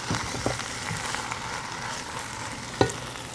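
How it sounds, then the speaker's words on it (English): Tortellini and vegetables sizzle steadily in a single pan, a continuous close frying crackle with a few sharp pops and stirring clicks, and no voices. "Just like sizzle."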